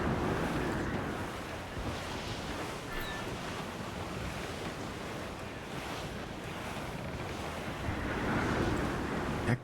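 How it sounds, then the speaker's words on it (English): Strong wind and rough sea on the open ocean while sailing in Assassin's Creed IV: Black Flag, a steady loud roar of gusts and crashing waves with no break and no voices. "Yeah, quite windy to say the least."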